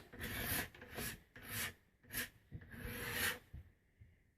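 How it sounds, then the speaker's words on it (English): A rasp files along the limb of a yew wood bowstave in a series of close, scraping rasping strokes, about seven in a steady back-and-forth rhythm, with no talking. "This is where you have to be careful with the rasp, is right along here."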